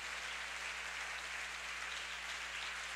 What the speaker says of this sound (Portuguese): Dê mais uma salva de palmas